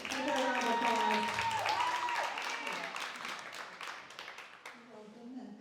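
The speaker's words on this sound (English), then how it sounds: "Give her a round of applause." An audience on a loft stage claps to welcome a guest. The applause runs throughout and gradually thins, with voices and music-like tones mixed in, and speech resumes near the end.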